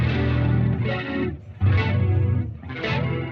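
A sustained chord thickened by a harmonizer, layered pitches shimmering together, played in three swelling phrases with brief gaps between them.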